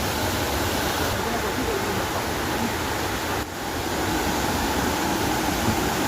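The Tigre river in Oxapampa rushes beneath a bridge as a steady, loud broadband roar of flowing water that fills the whole stretch without a break.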